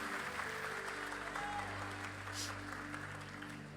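Church congregation applauding during a Portuguese-language sermon, a soft, steady wash of clapping heard from a distance over a low sustained organ-like hum.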